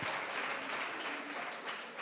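Dense, steady applause from a crowd fills the space, continuous clapping with no pauses.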